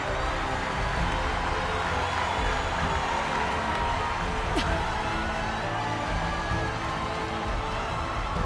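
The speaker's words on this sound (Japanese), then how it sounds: "沸き起こる場内の声援をお聞きください" A dense, steady roar of a large stadium crowd cheering continuously at a trophy ceremony in the video game Captain Tsubasa: Rise of New Champions, with no breaks, filling the whole stretch.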